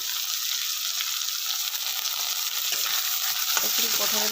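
Tomatoes, ginger, garlic, a pinch of salt and cashews fry in a pan for butter chicken, giving a steady close sizzle. Stirring clinks and scrapes come in toward the end.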